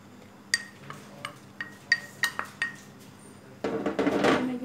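A spoon clinks sharply against a bowl about eight times at an uneven pace while gram flour batter for fried fish is mixed, then a louder, steady scraping rush of stirring follows at close range.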